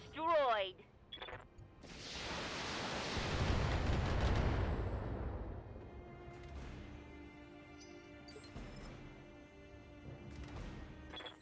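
A mech is destroyed in the game Battletech with a big rumbling explosion that swells over several seconds and then slowly fades, preceded by short bursts of fire and followed by quieter mechanical game sounds.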